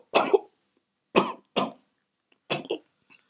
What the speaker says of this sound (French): tu as cette toux depuis quelques temps